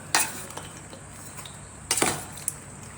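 A spoon stirs cluster beans through buttermilk in a bowl, two short bursts of wet scraping and clinking a couple of seconds apart, with a light tap after, close and clear.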